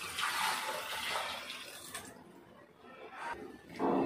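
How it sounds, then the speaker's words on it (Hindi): Meat stock (yakhni) being poured into a pot of Moradabadi chicken biryani, a steady broadband splashing and trickling of liquid that fades midway and returns near the end. "अभी जो यखनी का पानी है हमारा वो हम इसके अंदर ऐड कर देंगे।"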